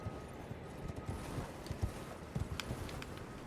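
Horse hooves from riding in the Elden Ring video game make soft, uneven clip-clop thuds. They sound steady but faint under a hissy ambient game backdrop.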